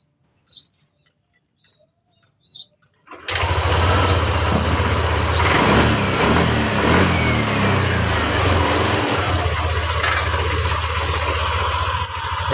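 A Yamaha Aerox 155 scooter with a hard-starting fault is cranked and fires up at about three seconds, then runs loud and steady near the listener, with a few faint bird chirps before it starts.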